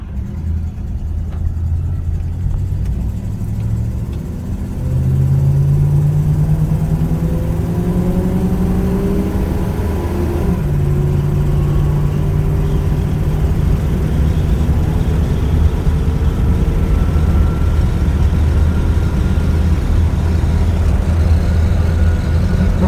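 A 1957 Chevy car drives toward the highway, its engine note rising through gear changes as it accelerates, with a steady loud road and motor hum that continues alone throughout.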